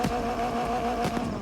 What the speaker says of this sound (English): people have been saying this thing has like a newer engine sound